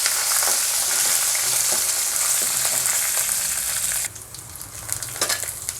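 Garlic sautéing in oil with curry leaves for a Tamil mustard gravy, a loud bright sizzle that steadies, then drops sharply partway through to a quieter crackle with scattered stirring clicks.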